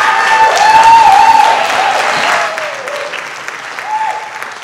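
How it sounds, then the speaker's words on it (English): A school audience applauds a high school jazz band after a performance, loud dense clapping and cheering that slowly thins out and fades, with a whistle-like tone and voices mixed in. "Give them a round of applause."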